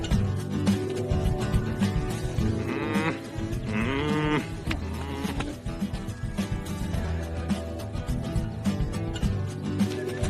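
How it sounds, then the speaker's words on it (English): Alpacas on a farm, waiting to be sheared, let out a few wavering bleat-like calls over a dense, continuous backdrop of music and outdoor noise. "parents have alpacas, and these alpacas need to be sheared."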